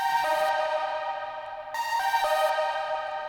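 A spliced, pitch-transposed vocal sample played as a melodic line, bright and harmonically rich, with sustained chopped notes shifting pitch in a few steps, loud and alone without talking.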